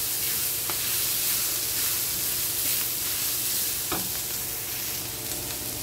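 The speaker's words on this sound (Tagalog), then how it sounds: "Igisa lang po natin mabuti" Garlic, onion and ginger sauté in rendered pork fat in a pan for pinakbet, producing a constant close sizzle with occasional scraping stirs.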